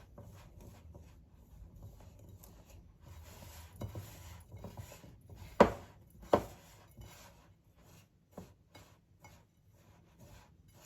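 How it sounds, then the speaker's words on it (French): Dough being mixed in a small salad bowl: soft scraping and stirring with scattered clacks and a couple of sharp knocks, close and fairly quiet, with no talking. "Je mélange bien en dessous. J'ai un peu le saladier un peu trop petit."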